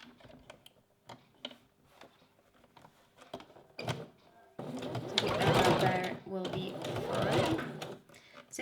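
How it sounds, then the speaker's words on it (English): A sewing machine sews a straight stitch through several fabric layers of a lace garment. Soft clicks and handling come first, then a loud, steady run of whirring stitching that lasts several seconds. "Then just sew again with a straight stitch, making sure you're getting all the layers and the needle is in the right place."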